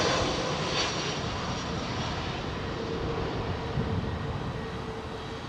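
A Boeing 777 jet at London Heathrow Airport gives a broad, steady engine roar that fills the scene at constant loudness and fades slightly toward the end, with no talk.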